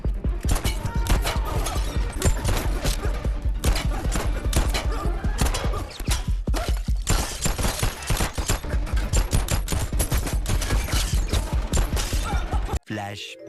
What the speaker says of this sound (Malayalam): അവിടെ വെച്ച് ഒരു വെടി പോലും കൊള്ളാത്ത രീതിയിലുള്ള ഗൺ ഫൈറ്റ്.